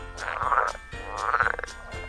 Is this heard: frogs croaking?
yes